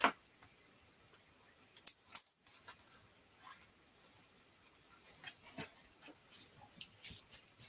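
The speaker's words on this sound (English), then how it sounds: "I really need to trim my glue dots down" Small scissors trimming down glue dots for a paper craft, giving quiet, scattered snips and clicks among soft handling rustles, close but faint, with livelier cutting toward the end.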